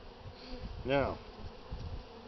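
Honey bees buzz during a spring hive inspection, one bee sweeping close by in a brief loud rising and falling drone over a faint background hum, with a voice speaking briefly.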